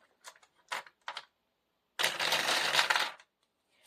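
Dice tossed and rolling during a cash-stuffing savings game: a few quick separate clicks and rattles, then a dense, sustained clattering roll lasting about a second, close and clear with no talk.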